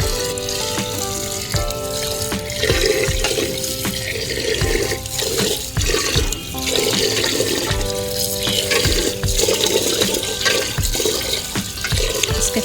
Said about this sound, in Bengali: দেখো আমার ছাদের কলটা দিয়ে কীরকম জল পড়ে